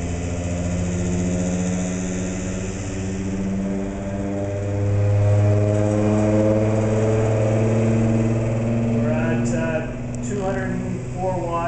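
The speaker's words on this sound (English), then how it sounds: "Now the prime mover is accelerating back up once again." Prime mover engine driving a generator in a laboratory demonstration, droning steadily and rising in pitch as it accelerates back up, with someone talking over it.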